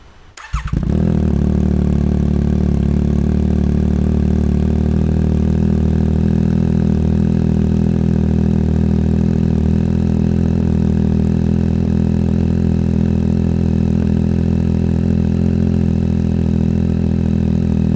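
A Yamaha MT-09 SP inline-triple motorcycle engine cranks and catches, then settles into a steady, loud, close idle that rumbles evenly without revving.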